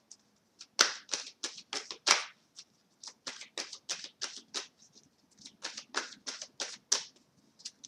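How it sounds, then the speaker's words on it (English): Tarot cards being shuffled in quick riffling bursts, a rapid papery flutter repeating in several runs with brief pauses between, close and fairly quiet. "Let's shuffle one more time."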